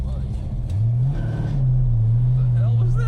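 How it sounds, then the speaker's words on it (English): A slipping fan belt on a 1970 Cougar Eliminator squeals thinly over the engine's rising rev and rumble, with short high chirps toward the end as people talk nearby. "That's a belt slipping."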